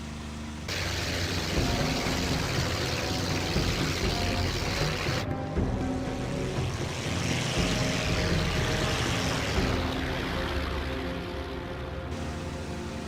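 Propeller engine of a P-51D-20-NA Mustang fighter in the flight sim IL-2 1946, a steady loud drone with a broadband roar lasting throughout, no talking.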